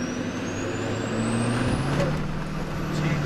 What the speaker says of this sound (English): You can hear that air cleaner.